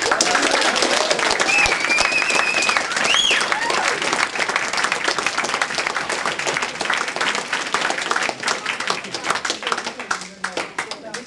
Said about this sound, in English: They need a big round of applause, please.